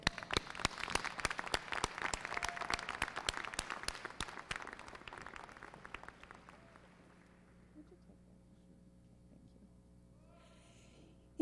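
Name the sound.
audience applause at graduation ceremony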